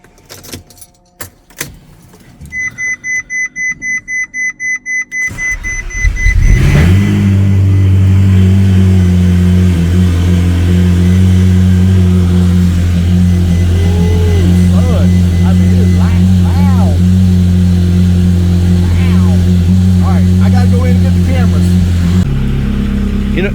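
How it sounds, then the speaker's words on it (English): A keyed ignition jingles and clicks, then a vehicle engine cranks with rapid stuttering turns, catches and settles into a loud, steady idle that holds for the rest of the clip while it warms up, cutting out near the end. "go ahead and put some heat in the engine, and we're going to get rolling out of here"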